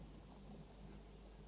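Rain and distant thunder in the Planet Zoo video game form a faint, continuous low rumble with a soft hiss of rainfall, steady and brief with no other sounds.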